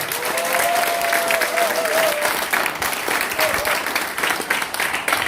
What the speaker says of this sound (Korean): 우리 승리의 박수 한번 칩시다